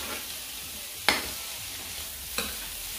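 Beef pieces frying and being stirred in cooking oil for a papaitan soup, with a steady low sizzle broken by two brief sharp clatters of the spoon against the pan, close and moderately loud, no voices.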